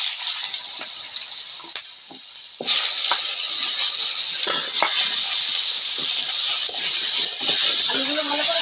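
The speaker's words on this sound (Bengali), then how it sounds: "মাছ ভাজা তেলের মধ্যে আলুগুলো দিয়ে দেবো।" Potatoes frying in the oil left over from frying fish: a steady sizzle jumps louder as they go in, then keeps crackling and popping close by.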